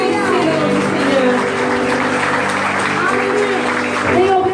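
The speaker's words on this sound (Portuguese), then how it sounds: "L'église applaudissez le nom du Seigneur." A church congregation claps together in a sustained burst of applause during a worship service, dense and loud, with voices mixed in underneath.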